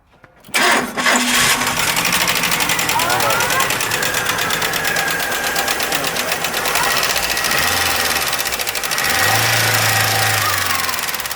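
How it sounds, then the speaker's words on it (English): A stripped-down Chevy Cavalier engine that was run out of oil idles loudly with a steady, rapid ticking knock from the upper end, consistent with a collapsed lifter, continuous throughout after a sudden start, with a low rumble rising near the end. "So that actually sounds like a lifter collapse there."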